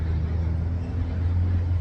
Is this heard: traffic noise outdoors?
yes